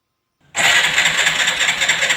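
After a moment of silence, a Hero Glamour BS6 motorcycle's electric self-start engages suddenly and whirs steadily for well over a second, loud and close.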